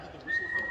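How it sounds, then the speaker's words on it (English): A short, faint whistled tone opens West Side Story, rising and holding for a fraction of a second against a quiet background. "So in the beginning, there's this little whistle that goes."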